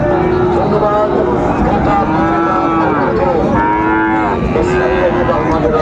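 Cattle at a busy cattle market in Dinajpur low repeatedly, several long, loud moos rising over a dense background of crowd chatter, while people talk nearby.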